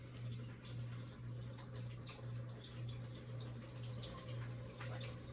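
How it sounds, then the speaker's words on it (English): A garden sprinkler runs on its own close by, a steady hiss of spraying water with a constant low hum beneath it, continuous throughout with no talking. "my garden has decided to water itself"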